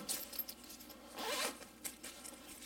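Zipper being opened on the pouch of an olive-drab, military-grade waterproof poncho, a few quick close rasping pulls with short pauses between them, no talking.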